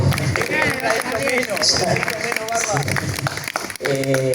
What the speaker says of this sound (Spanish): pido un aplauso para ellos también